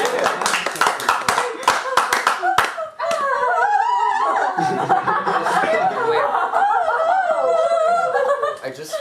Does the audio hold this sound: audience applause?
yes